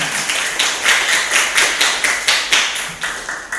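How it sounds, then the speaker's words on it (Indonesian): A classroom audience claps in a quick rhythmic pattern, each burst of claps sharply starting and fading, loud and close, with no talking. "tepuk tangan untuk kita semuanya"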